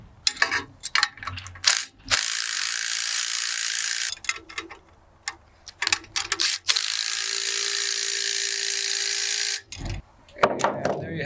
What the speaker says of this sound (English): And then use our impact to tighten things down